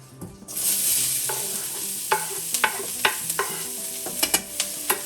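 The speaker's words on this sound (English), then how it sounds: "So now I'm gonna go ahead and add those veggies that we just cleaned and cut up." Cleaned, chopped vegetables tip into a hot pan of seasoned yellow rice and shrimp, raising a steady loud sizzle while a utensil scrapes and clacks against the pan in repeated strokes.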